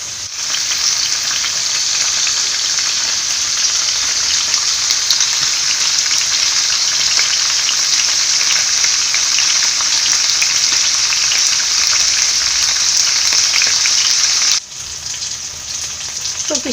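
Lady fish frying in a pan over a medium flame gives a loud, steady sizzle that holds evenly for about fourteen seconds, then drops off sharply near the end.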